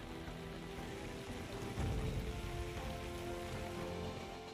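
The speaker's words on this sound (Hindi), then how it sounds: "तेज बारिश, घुटने तक पानी" Heavy rain pours steadily over flooded streets in Chennai, Tamil Nadu, a dense continuous hiss of drops on water and hard surfaces, with a brief louder surge midway.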